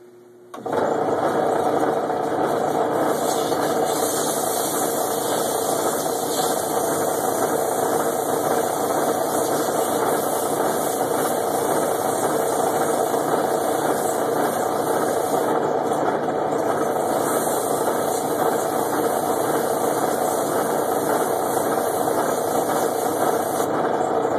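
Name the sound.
sanding cherry wood wine stem with 120 grit sandpaper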